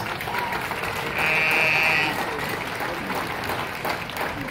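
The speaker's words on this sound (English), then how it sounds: "go ahead and give these three individuals a big round of applause" A crowd at an FFA market class show applauds three showmen, a soft steady patter of clapping lasting a few seconds, heard from a distance with a faint tonal buzz and some background voices.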